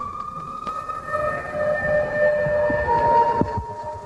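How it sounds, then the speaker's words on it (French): Several motorcade sirens wail, rising and falling together over a steady crowd murmur outside the cathedral in Port-au-Prince, Haiti, at Jean-Claude Duvalier's wedding, with a sharp bang near the end. "Vous entendez les sirènes du cortège qui arrive."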